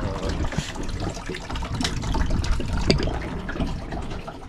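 Water running steadily from a tap, a continuous noisy rush with small splashes and trickles, heard close and fairly loud with no talk over it.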